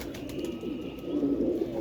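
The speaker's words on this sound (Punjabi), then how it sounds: "ਇਹ ਮਾਦੀ ਸਿਆਲ ਕੋਟੀ ਕਬੂਤਰੀ ਹੈਗੀ ਹੈ" A female Sialkoti pigeon gives soft, low cooing close by, a faint murmuring call swelling slightly over a couple of seconds with nothing else over it.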